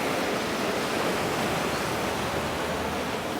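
Sea waves wash onto the beach at Calpe on the Spanish coast in a continuous, fairly loud surf roar with no distinct breaks and no voices.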